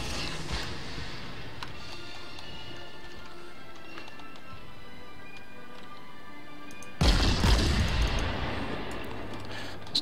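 Guns of the heavy cruiser Furutaka going off in the naval combat game World of Warships, a sudden loud broadband blast with a rumbling decay after a stretch of quieter battle noise.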